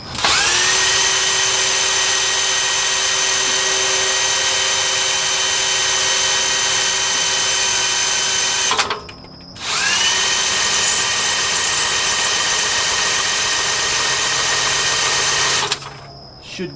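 A power drill spins the carrier of a Dana 60 axle fitted with an Eaton E-locker, in a Ford F250. It gives a loud, steady high whine that runs for about nine seconds, cuts out briefly, then spins up again and stops near the end.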